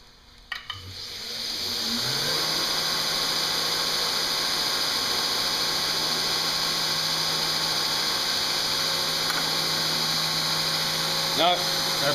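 Belt grinder running a flexible structured belt against a knife blade on a flat platen, a motor spinning up within the first two seconds into a continuous loud abrasive whine and hiss that holds steady throughout.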